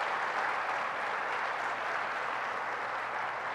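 Sustained audience applause during a political speech by Biden on the CHIPS and Science Act, a dense steady wash of many hands clapping at even loudness throughout, with no talk over it.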